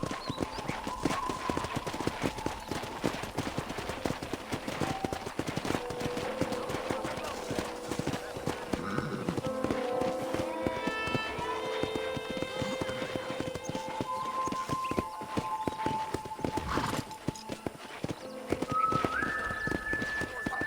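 Horse hooves in the video game Red Dead Redemption clop in a brisk, steady gallop on a ranch throughout. Birds chirp, a melodic score plays and someone talks over the hoofbeats.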